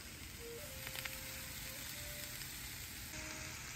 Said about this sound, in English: Brown up some sausage and some onions. Add some apples. You can hear them sizzling.